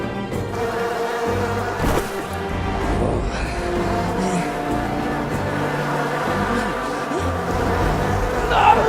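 A buzzing swarm of bees in the video game SMITE, a dense, steady insect drone that continues for the whole clip amid busy game sound effects and music.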